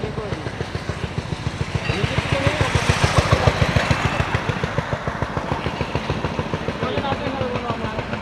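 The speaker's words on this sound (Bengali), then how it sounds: "এই বাইকগুলো আমাদের সাথে আর যাচ্ছে বারাসাত বাইকার্স গ্রুপের" Several motorcycles of the Barasat Bikers group ride along together, their engines throbbing in a steady, close, rumbling pulse that swells in the middle and stays loud throughout.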